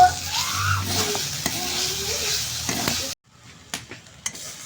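Drumstick flowers and whole poppy seeds frying in a pan are stirred, giving a steady close sizzle with scraping strokes for about three seconds, then a quieter pause broken by a few sharp clinks.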